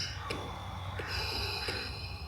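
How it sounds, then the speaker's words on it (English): Deep breaths during a breathing exercise at the beach, a few audible inhales and exhales in a rhythmic pattern, soft and close over faint background noise. "Breathe in, breathe out."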